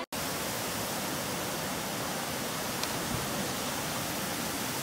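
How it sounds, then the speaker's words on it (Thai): The Tham Phra waterfall, a big falls with a natural rock slider, pours as a steady, full-band roar of rushing water that runs alone and unbroken from near the start. "น้ำตกใหญ่อยู่ตรงชาติ"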